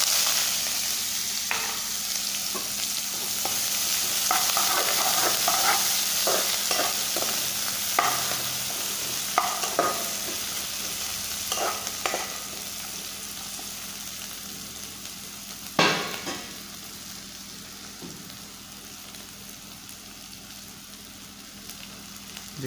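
Onion fries in a pan for poha, a constant close sizzle with scattered stirring scrapes and crackles, one louder clatter late on, then the hiss settles to a quieter simmer.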